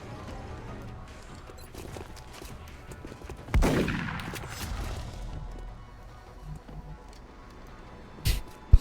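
A video game squad fires shotguns in combat on an XCOM Long War mission: one loud, close blast with a ringing tail, then a sharper shot near the end over quiet background noise.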